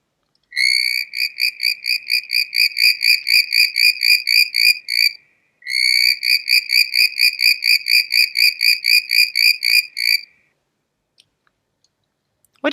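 Tree frog with sticky climbing toes calling in two long bursts of rapid, regular pulsed chirps, loud and close, with a short pause between bursts and quiet after.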